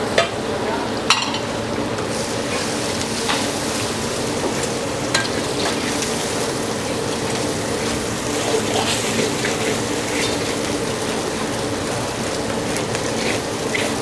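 Five eggs fried in hot oil with fragrant garlic and shallots, a steady dense sizzle and crackle from the pan throughout, close and loud with no talk.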